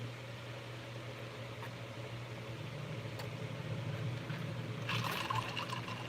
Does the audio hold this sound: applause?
no